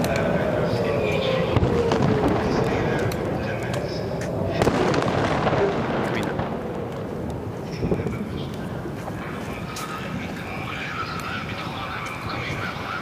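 Air raid sirens wail over Tel Aviv amid thuds of bombardment, a rising and falling tone behind dense popping blasts and continuous rumble, with a voice talking over it.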